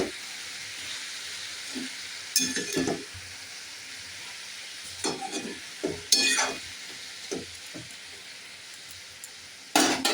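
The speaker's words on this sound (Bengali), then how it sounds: "আর এটা এখন ঢাকা দিই, একটু ভাজা ভাজা হোক" Bottle gourd and prawns fry in a covered pan, giving a low, steady sizzle with a few brief clatters and scrapes scattered through it.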